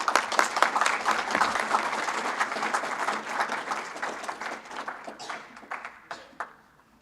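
A modest audience gives applause to the winners of a visual question answering challenge, brisk and fairly close at first, then thinning into individual scattered claps as it dies away.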